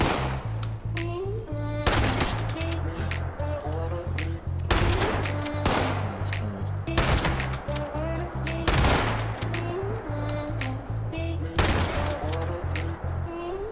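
Repeated gunfire from Fallout 76 gameplay pops in rapid clusters at a steady rhythm, loud and close, over a low droning game soundtrack with a voice speaking at times.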